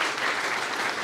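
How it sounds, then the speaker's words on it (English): A short burst of dense applause from a morning audience at an Innovation Booster Grants event, many hands clapping evenly and close, with no talk over it. "I'd like to just give a massive round of applause to our host, Charlie"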